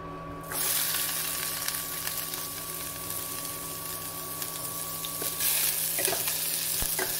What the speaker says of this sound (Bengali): পেঁয়াজটা একটু হালকা ভাজা করব।